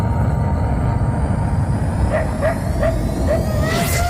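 A dog barking in a UFO invasion show, heard as four short yelps spaced about half a second apart over a loud, dense rumble of effects, followed by a rising whine.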